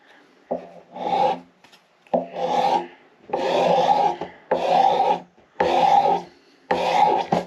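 Long rasping strokes shave the neck of a 1937 Martin D18 guitar, coming in about six loud, close bursts separated by short pauses, with no voices.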